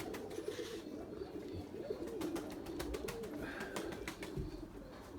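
Pigeons coo softly and continuously in a loft on a hot day in İzmir, low and murmuring under steady background noise and scattered clicks.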